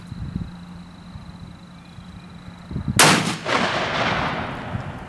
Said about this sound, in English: rifle, shot 2.